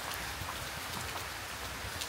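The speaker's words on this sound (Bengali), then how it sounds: "না হয় অক্টোবর নভেম্বরেও বৃষ্টি হয়" Rain pours steadily in November, a dense uniform hiss of drops drumming on nearby surfaces, with no talk over it.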